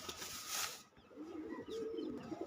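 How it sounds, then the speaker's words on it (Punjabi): A tanki pigeon coos in a low, rolling, throaty burr that swells twice in the second half, close and fairly loud, with no voices present. "ਲਓ ਬਾਈ ਜੀ ਆਪਣਾ ਟਾਂਕੀ ਵਾਲਾ ਕਬੂਤਰ ਆ"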